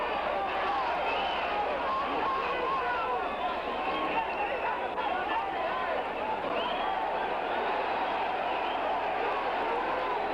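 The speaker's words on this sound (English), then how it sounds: "The crowd is getting on Terrell for holding." A boxing arena crowd jeers and roars steadily at Ernie Terrell for holding during his fight with Doug Jones, a dense continuous wall of noise under a ringside commentator's voice.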